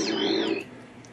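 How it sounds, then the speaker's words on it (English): Windows system sound for a device failing to connect: a single brief tone with a gliding, sweeping pitch, loud and close, fading out after about half a second. "Device disconnect. Device failed to connect."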